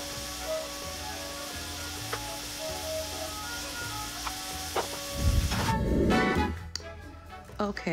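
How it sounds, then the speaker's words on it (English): Diced vegetables seasoned with salt and pepper sauté in a pan with a faint, steady sizzle, a few clicks and clatters over it, then a louder scraping burst of stirring near the end. "while our vegetables are sauteing"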